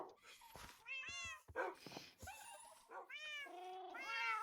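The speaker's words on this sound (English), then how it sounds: "That is so many cats." Several Minecraft cats gathered in a barn, meowing repeatedly in a close, overlapping series of short mews with small gaps between calls, no talking.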